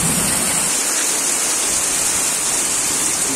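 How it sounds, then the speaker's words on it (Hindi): Heavy downpour roars steadily on a rainy-season day, a dense unbroken hiss of rain close by with no voices over it. "और इतना तेजी से बारिश है कि कुछ कह नहीं सकते हैं।"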